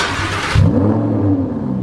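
A Lamborghini with a straight-piped exhaust fires up inside a garage, a sudden loud catch and bark settling into a deep, rough idle that echoes in the enclosed space.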